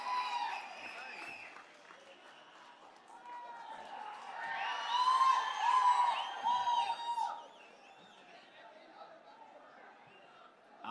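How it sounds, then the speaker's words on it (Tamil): Crowd in a packed hall at a TVK political event clapping and cheering, swelling to loud applause with whoops and whistles in the middle, then dropping back to scattered murmur and voices. "அரங்கம் நிறைந்த கைத்தட்டல்."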